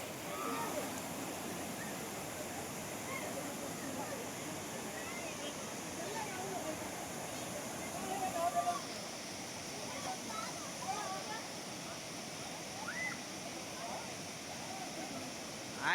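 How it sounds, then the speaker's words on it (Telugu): Kashipur waterfall near Araku roars in a steady, even wash of rushing water that fills the scene, with a few faint voices in the background. "మేము వాటర్ ఫాల్కి వచ్చాము."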